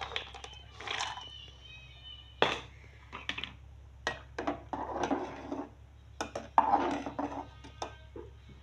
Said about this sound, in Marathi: आपण ते शेंगदाणे टाकून घेऊया आपल्या राईस मध्ये.